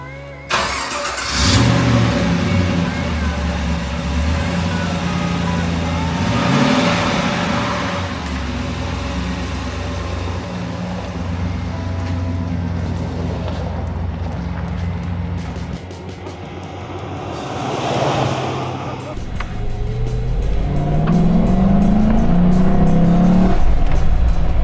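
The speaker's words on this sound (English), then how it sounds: "It would be a shame to feature this entire completely drivable Land Cruiser and not drive it" A red FJ60/80 Toyota Land Cruiser resto-mod with an LS3 V8 and a 5-speed manual drives along. Its engine drones steadily and swells under acceleration in a few surges, heard from inside or close by, with no talk.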